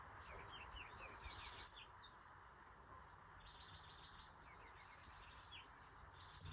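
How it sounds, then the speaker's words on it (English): Many small birds chirp and trill continuously at a distance, a busy chorus of short, high tweets over a soft outdoor hum. "if you can hear all the birds"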